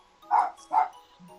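Two short, loud voiced barks from a person mimicking a dog, spaced under half a second apart, followed by a faint low murmur, during a Dungeons & Dragons tabletop session.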